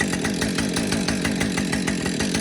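Repaired chainsaw engine idling close by, a loud, steady, rapidly pulsing two-stroke putter with no talk over it.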